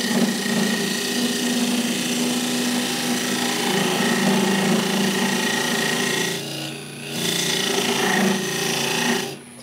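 Parting tool cutting into a wooden bowl spinning on a lathe, a steady close scraping and rasping drone that dips briefly near the end before resuming.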